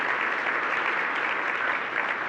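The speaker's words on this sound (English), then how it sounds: "Let's give him a round of applause for everything that he's done." An audience at a Bay County Chamber dinner gives a retiring leader a round of applause. The clapping is dense and steady from start to finish, with no talk over it.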